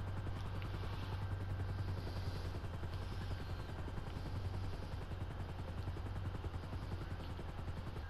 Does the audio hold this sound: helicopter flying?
yes